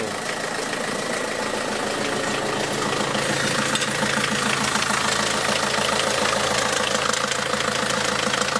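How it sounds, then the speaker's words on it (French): A Peugeot 307 HDi diesel engine idles steadily after an oil change. Its close, continuous rumble carries a fine rhythmic diesel clatter and holds an even level throughout, with no voices. "le moteur il tourne"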